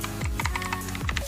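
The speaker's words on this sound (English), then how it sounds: "Mechanical blue switches." Rapid clicky keystrokes on a Gigaware K28 mechanical keyboard with blue switches, a handful of sharp close taps in quick irregular rhythm.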